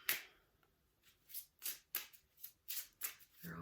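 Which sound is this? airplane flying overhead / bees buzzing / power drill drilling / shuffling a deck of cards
shuffling a deck of cards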